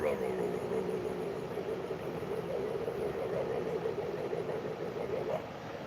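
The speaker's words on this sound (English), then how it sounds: "Did you hear how loud that engine is?" A car engine idles steadily with a low, even rumble that holds for several seconds.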